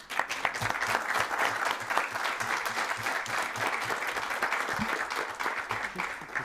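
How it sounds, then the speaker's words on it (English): A conference audience at a Mediterranean climate finance and energy transition event breaks into loud, sustained applause, many hands clapping densely and evenly throughout with some rhythmic low thumps, no talk over it. "I think it needs a big applause"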